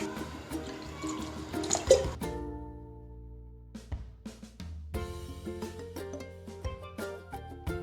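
Water is poured into a gram flour batter for a Kathiyawadi onion besan curry, with soft dripping and trickling liquid sounds and light kitchen clinks close by, and no talking.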